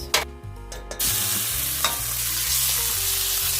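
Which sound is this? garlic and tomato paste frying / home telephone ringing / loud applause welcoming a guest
garlic and tomato paste frying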